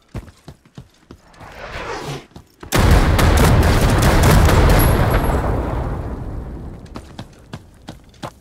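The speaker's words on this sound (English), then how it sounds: "Light mortar support inbound." Mortar shells explode in the video game Hired Ops, a sustained loud barrage of booms and blasts after a few scattered distant thuds, rumbling on for several seconds before fading back to sporadic impacts.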